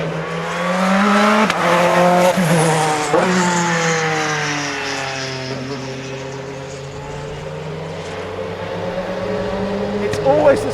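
A Bentley Speed 8 Le Mans race car laps Anglesey Circuit, its engine note rising and falling through the gears close by, loud and harsh, with a voice talking over it.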